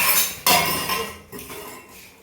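Steel dishes and cutlery clatter and clink in a sink as they are scrubbed by hand, with a few sharp loud knocks followed by fading rattles, close by and without talk.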